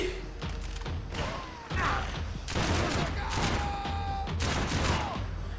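Repeated gunfire bursts and thuds from weapons in Max Payne 3, a dense fusillade of shots over a continuous game soundscape, fairly loud throughout.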